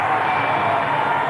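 A baseball stadium crowd at a 1997 Mets at Astros game gives a standing ovation for Biggio, a broad, steady roar of cheering with no break.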